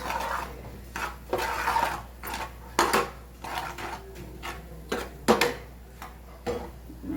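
A utensil scrapes and stirs food in a metal pan during home cooking, giving repeated uneven strokes and clinks heard close up with no talking.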